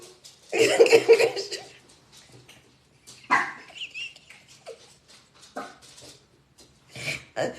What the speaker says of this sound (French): Il y en a deux de chiens en plus